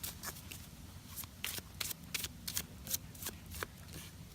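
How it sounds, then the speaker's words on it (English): A deck of Star Trek playing cards is shuffled by hand, giving quiet, crisp riffling bursts and taps spaced irregularly over a few seconds, close and alone with no talking. "So I'm going to go ahead and give these a shuffle, just so you guys can see how they shuffle."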